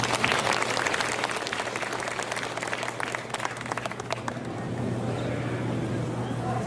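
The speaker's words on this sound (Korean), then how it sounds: "큰 박수로 부탁드립니다." Audience clapping welcoming a school principal at a school information session, a dense patter that fades after a few seconds into steady room hum and low background noise.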